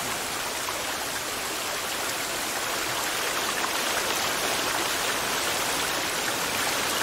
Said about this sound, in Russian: Да, дождь начался.